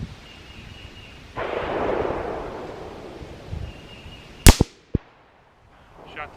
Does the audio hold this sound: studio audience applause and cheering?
no